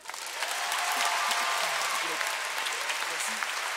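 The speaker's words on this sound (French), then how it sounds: "Applaudissements." Audience at a live French show for young listeners breaks into applause after a story, steady crowd clapping that swells quickly and holds at full strength.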